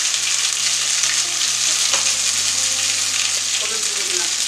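Ginger and green chili frying in a pan, a loud continuous sizzle up close with some stirring and clinking partway through.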